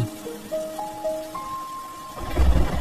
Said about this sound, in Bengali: বাইরে তো অনেক বৃষ্টি হচ্ছে।